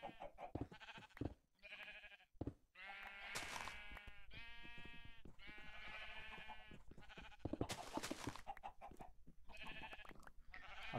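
A flock of Minecraft sheep bleats again and again in loud, overlapping nasal calls, with a few short gaps between bursts and no talking.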